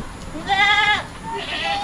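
Small goats bleat at a rainy rural Philippine farm: one clear wavering bleat, followed by a shorter, fainter second cry, close by over light background noise.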